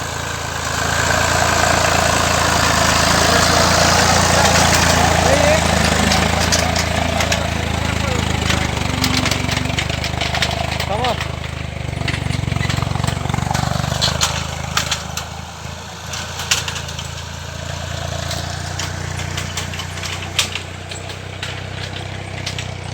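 A tractor engine idles with a steady, loud mechanical drone through harvest time on a village farm, running close by for the whole stretch with scattered knocks and rustles. Someone talks at times over the engine.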